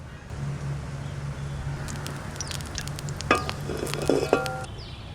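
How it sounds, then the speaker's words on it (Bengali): Oil sizzles as it heats in a wok while Bengali hilsa mustard curry is being cooked. A soft, steady crackle continues throughout, with a few light clinks and pops near the end. "কড়াইতে তেল দিয়ে দেবো।"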